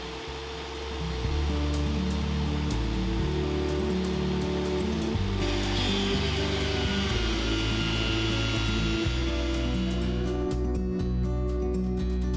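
A power planer or thicknesser drones steadily through rough-sawn timber boards, a loud, continuous machine roar with shifting tone as the boards pass through in short passes, with no talk.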